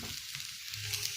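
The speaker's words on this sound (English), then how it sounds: "it's time to add my sardine, and I'm going to stir this" Sardine and vegetables sizzle and fry in a pan while being stirred, a steady close hiss with faint scraping throughout, no talking.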